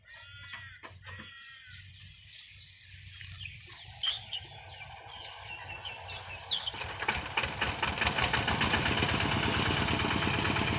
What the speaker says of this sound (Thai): ที่จะติดเครื่องนะครับ